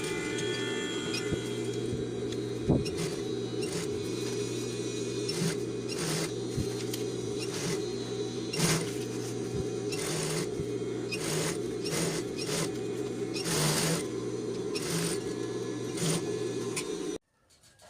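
A sewing machine stitching a rain jacket near the zipper, running in a steady fast mechanical patter with a continuous hum and rhythmic clicks, close and loud, stopping abruptly near the end.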